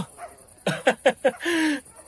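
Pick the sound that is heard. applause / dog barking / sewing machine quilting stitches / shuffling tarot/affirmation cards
dog barking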